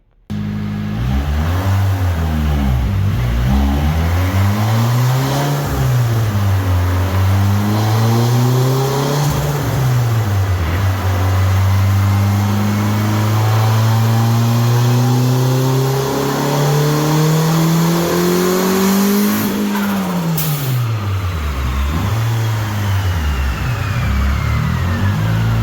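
A turbocharged car engine revs up and down repeatedly during partial throttle boost tuning, several rising pulls and drops in a loud, sustained engine drone with no talking.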